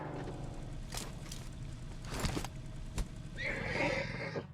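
A horse in PUBG Mobile whinnies loudly, with clip-clopping hooves and a steady game ambience running throughout.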